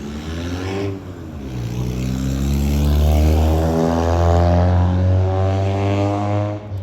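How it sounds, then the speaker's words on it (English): A loud car revving its engine nearby, a deep harmonic roar that dips and then climbs to a sustained high-rev drone for several seconds before easing off. "Loud ass car."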